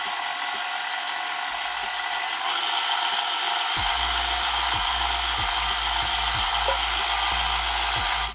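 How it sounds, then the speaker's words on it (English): Stand mixer with a whisk attachment blends melted butter and sugars for chocolate chunk cookie dough, a steady loud whirring motor drone running throughout with faint rhythmic ticks from the whisk against the bowl. "Taking the whisk attachment and go ahead and just blend this together real quick."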